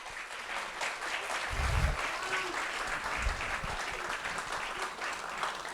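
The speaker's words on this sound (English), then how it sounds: "Let's give a warm round of applause, too, for those" A chamber of commerce civics event audience gives a warm round of applause, continuous even clapping from a sizeable crowd with a few low thumps, moderately loud and without speech.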